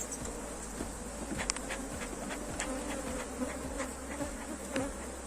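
A honey bee swarm in an open beehive during a colony inspection, a steady dense buzzing drone with individual bees flying close past at moments.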